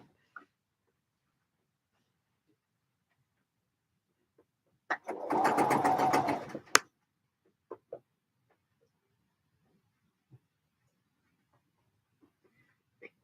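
A sewing machine runs a short stitching burst of about two seconds, a fast, even buzz in an otherwise quiet room, with a few faint clicks before and after.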